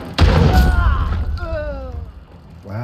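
A single loud, punchy gunshot fired through a wall in a shooter game, a heavy boom followed by a ringing, whining tail that fades over a couple of seconds.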